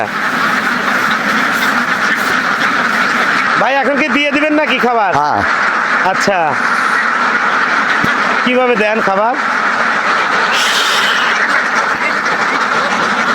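Laying ducks kept for eggs quack loudly and eagerly while waiting for food, in repeated nasal bursts close by, under a steady background rush as people talk.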